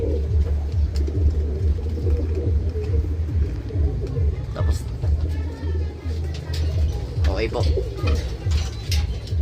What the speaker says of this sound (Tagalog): Kompleto yung mga ibon natin ngayon.